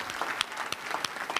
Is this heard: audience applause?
yes